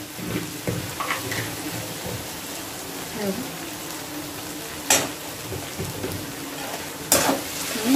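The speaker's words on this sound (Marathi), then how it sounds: "ते पण मिक्स करून घेऊया आणि त्यात मी जे नूडल्स घेतलेले आहेत ते मी यात घालत आहे।" Vegetables and noodles for veg hakka noodles are stir-fried in a pan, with a low crackling sizzle and scraping stirs, plus two sharp clanks of utensil on pan, under occasional background sounds.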